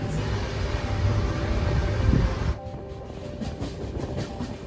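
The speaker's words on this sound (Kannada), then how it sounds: "ಈಗ ನಮ್ಮ train KSR Bengaluru railway station ಇಂದ ಡಿಪಾರ್ಚರ್ ಆಯಿತು" The Mysore–Jaipur superfast rolls out from KSR Bengaluru with a heavy close rumble of wheels and coaches that suddenly drops to a quieter, steady rolling clatter about halfway through.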